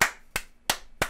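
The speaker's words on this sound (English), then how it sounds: "Applause!" Four slow, evenly spaced hand claps ring out sharply and close, each a single crisp smack followed by a short silence, with no crowd behind them.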